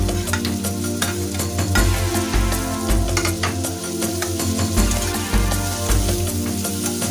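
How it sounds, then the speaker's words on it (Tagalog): Carrot pieces sautéing with garlic and onion in a pan for Filipino misua soup, a loud steady sizzle with repeated stirring scrapes and clinks throughout, no talking. "palambutin lang natin siya ng konting-konti while nag-inigisa natin siya dito sa ating bawang at sibuyas"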